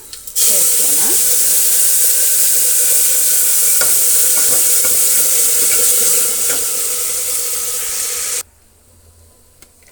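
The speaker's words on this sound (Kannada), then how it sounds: "ಒಗ್ಗರಣೆ ಈ ರೀತಿ ಹಾಕಬೇಕು ಅಷ್ಟರ ತನಕ ನಾವು ಇದನ್ನು ಫ್ರೈ ಮಾಡ್ಕೋಬೇಕು" Tempering for ridge gourd sambar fries in a pan with a loud, dense sizzle and hiss, with a few stirring knocks, then stops abruptly near the end and leaves a quiet room.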